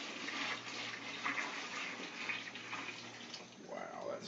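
Hot hop liquid for a honey wheat braggot is poured into a homebrew bucket, a continuous splashing, gurgling pour of moderate loudness.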